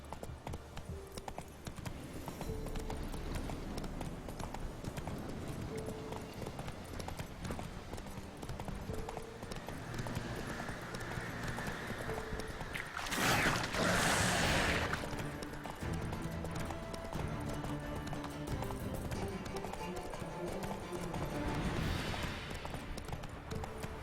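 Roach the horse trotting in The Witcher 3, a steady clip-clop of hooves on the ground carrying on for a long stretch, with a louder whooshing swell midway.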